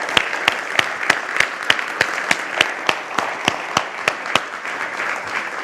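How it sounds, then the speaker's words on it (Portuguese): Audience at an automotive summit clapping for a speaker, a sustained round of applause with sharp, evenly spaced claps standing out above the crowd. "pedir-vos apenas uma salva de palmas ao António"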